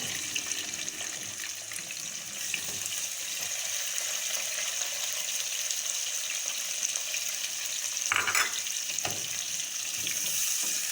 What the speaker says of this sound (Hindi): अनियन को हमने गोल्डन ब्राउन होने तक फ्राई करना है